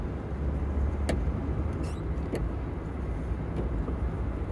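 A Chrysler Crossfire races a Volkswagen and accelerates hard away, its engine a steady, loud broadband roar heard from nearby, with a couple of brief sharper transient sounds along the way.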